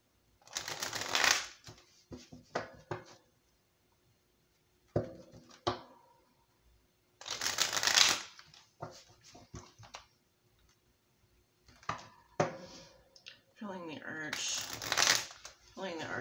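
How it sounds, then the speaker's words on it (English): Tarot cards shuffled in several separate bursts of quick riffling and flicking, with quiet gaps between them; a person talks in between. "Let's give them a couple shuffles here."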